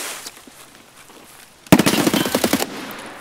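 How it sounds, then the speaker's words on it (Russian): A gunfire exchange in Escape from Tarkov: after a quiet stretch of faint movement, a sudden loud burst of rapid automatic fire rattles for about a second close by. "Хорошо, я стрелялся, попал в голову"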